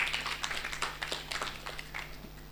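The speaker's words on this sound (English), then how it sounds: "we can do better by giving him another round of applause" An audience at the Pharmaceutical Society of Kenya annual conference gives a presenter a round of scattered, moderately faint clapping, with irregular hand claps overlapping for a couple of seconds over a faint steady hum.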